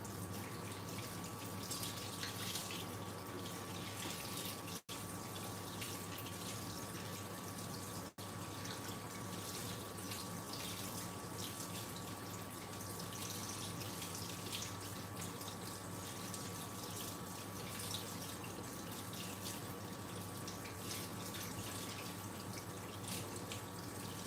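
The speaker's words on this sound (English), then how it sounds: "I'm just gonna wash my hands." Water runs steadily from a tap for handwashing at a kitchen sink, a continuous even hiss with faint splashing throughout and no speech.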